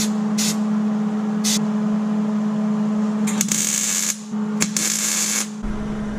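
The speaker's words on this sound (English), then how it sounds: "Just need some grindage." Angle-grinder-style bursts on rough cut metal edges during a Lincoln 8.8 rear end swap on a Merkur: several short passes, then two longer harsh grinds, close and loud over a steady shop hum.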